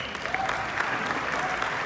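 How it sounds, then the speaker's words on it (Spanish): Steady applause from an awards-ceremony audience honouring bronze winners at an advertising festival, a dense continuous clapping heard alone and close. "Fuerte aplauso a los ganadores de estos bronces"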